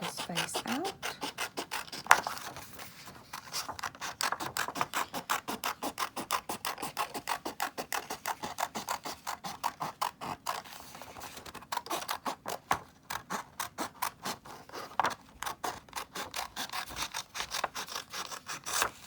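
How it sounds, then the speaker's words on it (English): Scissors snip around a paper octopus face in quick, close bursts of rapid cutting strokes, with brief pauses between runs and no talking. "I'm going to quickly cut my octopus face out."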